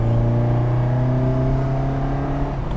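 A 1979 Ferrari 308 GTS V8 on the move gives a steady, loud, low engine drone with strong harmonics that stays even at constant speed, no voices.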